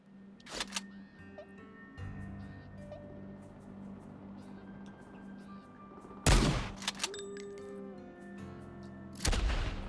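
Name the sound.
shotgun fire in video game Worms W.M.D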